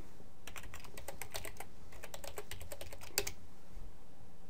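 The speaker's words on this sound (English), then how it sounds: "I'm just gonna go ahead and manually type it in here." Someone types on a computer keyboard nearby, a burst of quick, irregular key clicks with a louder tap near the end, then a pause, alone without talk.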